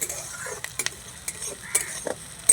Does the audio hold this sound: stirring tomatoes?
yes